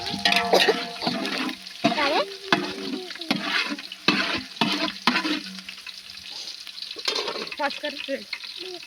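Green chillies sauté in a pan with a continuous sizzle, while a spatula knocks and scrapes in a rough, uneven rhythm close by; a few faint voices can be heard at times.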